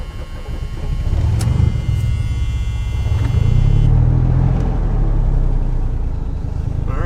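A worn-out old Chevrolet Impala driving on the road: loud, steady engine drone and road rumble from inside the car, rising slightly in pitch midway as it carries on at speed.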